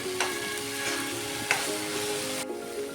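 Chopped tomatoes and onions frying in a pan with ginger-garlic paste, a constant close sizzle broken by a few sharp spatula strokes and scrapes as the mixture is stirred, with no voices.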